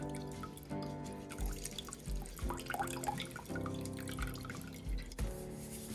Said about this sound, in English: we're gonna take a fresh lemon and we're gonna squeeze as much of the juice out of it as we can